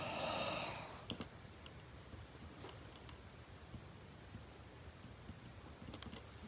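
Someone types on an iPad Pro Magic Keyboard, giving close, quiet clusters of crisp key clicks with short pauses between bursts.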